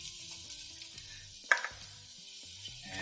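About a teaspoon of garlic sizzles in a frying pan, a steady quiet hiss with soft stirring scrapes and one brief clatter near the middle.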